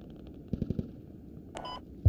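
Distant automatic gunfire in the military shooter game Squad, a quick burst of four shots followed by a brief metallic clatter and a thud.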